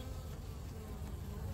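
Honeybees drone inside a Layens hive, a constant close hum from a crowd of bees that holds level throughout without talk.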